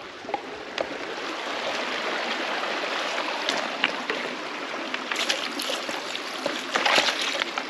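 A gold suction dredge draws in river water on the Stanislaus River in California, producing a steady, close rushing and gurgling wash with occasional splashes and knocks, continuous throughout with no talking.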